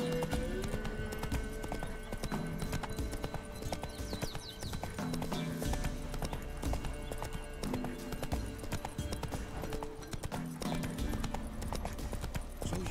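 Hooves of Roach, the horse in The Witcher 3: Wild Hunt, drum in a fast continuous gallop amid a busy game soundscape with music and ambience, the rhythm dense and constant throughout.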